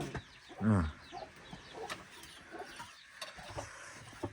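A single loud rooster squawk rings out early, followed by faint scattered clucks and background clatter.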